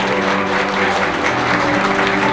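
Steady, loud applause from a wedding ceremony crowd in a wedding hall fills the whole moment, with a faint musical tone sustained underneath.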